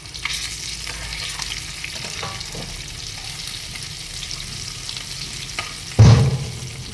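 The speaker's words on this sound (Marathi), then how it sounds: "आपलं ते फ्राय होऊन जातं. मस्त असं क्रिस्पी बनवूया." Fish fries in a pan with a steady crackling sizzle and scraping stirs, then a louder burst of hissing near the end as pieces are flipped over.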